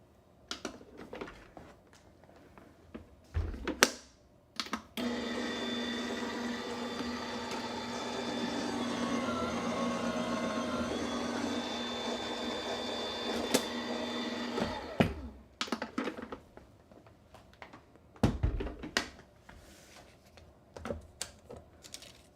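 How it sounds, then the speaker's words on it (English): A die cutting machine runs a gift box cutting die through its rollers with a steady mechanical whir for about ten seconds. A few sharp clicks and handling knocks come before and after it. "then we're just going to do a quick die cut"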